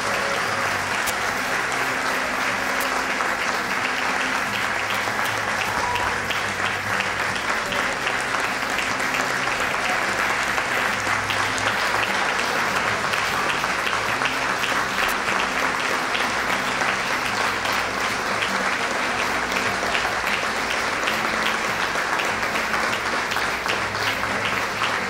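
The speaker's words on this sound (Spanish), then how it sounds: "le brindemos un fuerte aplauso a las señoras damas" Sustained applause from a crowd at a Women's Day ceremony, dense and steady clapping filling the room for the whole stretch without a break.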